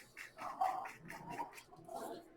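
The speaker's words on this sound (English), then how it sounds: "So my dogs are barking a lot." Several dogs bark in the background while chasing cats, with repeated barks and yips at moderate distance over a steady room backdrop.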